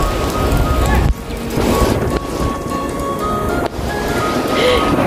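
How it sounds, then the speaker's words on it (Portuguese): Rain pours onto a beach at Guarujá, São Paulo, with surf rolling in behind it, a loud, dense hiss under the waves that shifts abruptly a few times. "Que chuva gostosa, gente."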